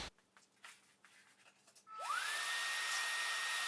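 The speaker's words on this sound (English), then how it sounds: "Now I'm going to put a second coat on, but first I need to vacuum this off." Vacuum cleaner switched on to suck up sanded shellac dust from a workbench top, preceded by light brushing or rubbing sounds, then the motor spins up with a rising whine into a loud, steady roar nearby.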